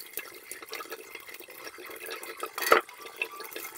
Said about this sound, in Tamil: நான் வந்துட்டு இஞ்சி டொமேட்டோஸ் எல்லாம் வாஷ் பண்ணிகிட்ருக்கேன்